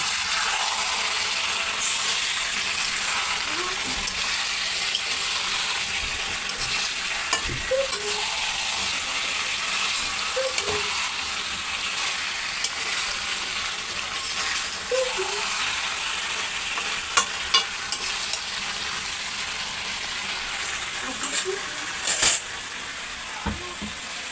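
Potatoes stirred into a Bengali chicken curry frying in a pan, a continuous steady sizzle with occasional soft scrapes and light clicks of a spoon against the pot.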